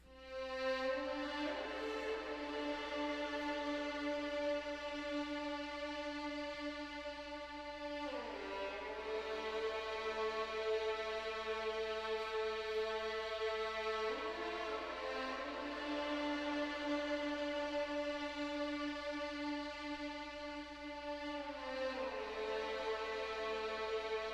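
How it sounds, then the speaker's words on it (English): A solo lead violin drenched in Valhalla reverb plays slow, sustained notes that glide between pitches, each phrase ringing out into a soft wash, heard alone and fairly quiet. "So I started with this violin, which sounds like this by itself."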